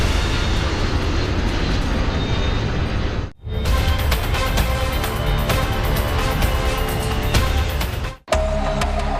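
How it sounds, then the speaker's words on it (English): An L-1011 jet airliner flying over the Florida Everglades while the crew works on a nose gear problem, heard as a steady, loud broadband engine roar that cuts out briefly twice. "A jet is flying over the Florida Everglades while the crew is trying to fix a problem with the nose gear."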